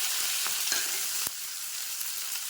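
Cumin and chopped onion fry in hot oil in a pan, a steady close hiss with a few soft stirring knocks, with no voices.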